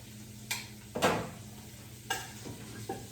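A ham bone browns in a pot, with a faint sizzle under a few sharp clanks and scrapes of a utensil against the pot, close and quiet.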